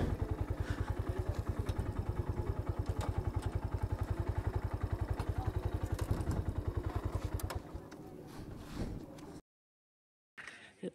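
Motorcycles of riding partners arrive at a bridge meeting spot, a nearby engine thumping in a fast steady idle pulse for several seconds, then fading out, followed by brief silence and another short burst of noise.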